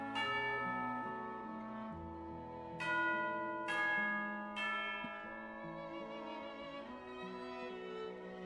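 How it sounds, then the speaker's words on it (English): A bell rings for tea time in Genshin Impact, several clear resonant strikes with long ringing decays layered over soft background music. "You hear the sound of a bell."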